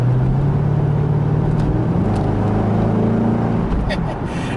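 A 2000 Chevrolet Corvette C5 accelerates hard under kickdown, its engine giving a loud, sustained roar with rising pitch, heard from close by throughout with no pauses.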